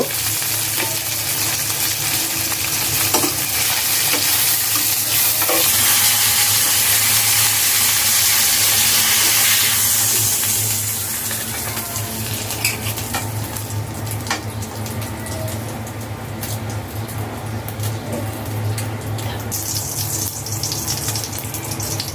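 Rohu fish frying in a pan, a loud, close hiss of hot oil that surges in the first half, then eases into a lower, steady crackle with scattered spits and utensil scrapes.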